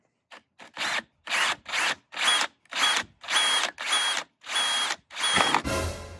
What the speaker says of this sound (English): we're just gonna go over 1/2 inch and drill a new hole here